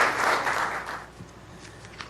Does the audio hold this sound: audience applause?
yes